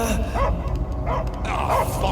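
A dog barks and yips several times in a Guardians of the Galaxy video game scene, close and fairly loud, with whimpering tones between the barks and a voice talking underneath.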